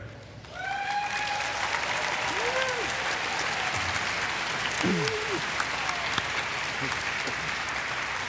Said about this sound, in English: let's give an applause for Michael, who's coming up here